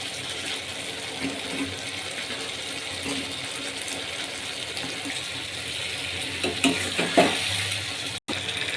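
Chicken pieces frying in a pan for chilli chicken, a steady broadband sizzle with a few louder spatters and utensil scrapes near the end.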